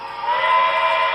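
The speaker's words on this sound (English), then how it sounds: "that's the first whistle" Whistle from a Broadway Limited C&O L-1 Hudson model steam locomotive, a single short, loud, steady chime-like tone blown alone and held for about a second.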